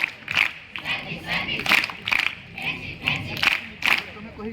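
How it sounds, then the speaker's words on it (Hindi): Audience at a school gathering claps in welcome, a rhythmic series of roughly ten distinct, evenly spaced clap bursts mixed with crowd voices and cheering. "तांको मध्य आमे करताली दे स्वागत करिबा।"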